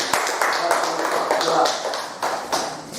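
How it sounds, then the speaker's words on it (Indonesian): Students in a classroom clap their hands together in a short burst of applause, with fairly close, uneven taps running for a few seconds. "Oke, tepuk tangan."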